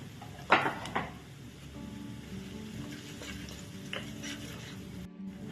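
Spice masala with turmeric, red chilli powder and coriander powder stirs and sizzles in a pan for a spinach curry, with a couple of sharp scraping knocks early on over a steady low fry; no one speaks.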